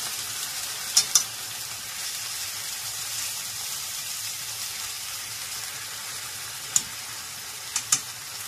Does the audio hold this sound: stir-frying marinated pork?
yes